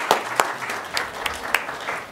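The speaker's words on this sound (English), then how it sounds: "Give them a round of applause." Applause at a town council meeting, scattered claps from a modest room crowd, sparse and uneven, lasting a couple of seconds without talk.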